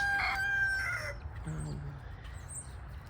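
Backyard chickens cluck and a rooster crows, a high crow at the start followed by softer clucking, all at moderate distance with a faint background hiss.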